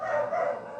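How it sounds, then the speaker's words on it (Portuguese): A dog barks just outside, a short burst of one or two yips that comes through clearly and fairly loud, with no talking over it. "tem uns cachorros meus ali fora e eles não estão deixando eu quieto aqui fazer o vídeo"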